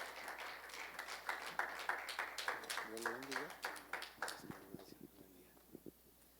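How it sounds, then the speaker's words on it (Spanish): A church congregation applauds during a Sunday service: a brisk burst of many hands clapping that thins out and fades as voices and speech take over toward the end. "Le damos un fuerte aplauso a Cristo."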